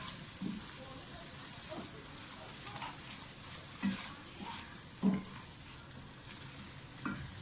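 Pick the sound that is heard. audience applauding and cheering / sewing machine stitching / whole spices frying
whole spices frying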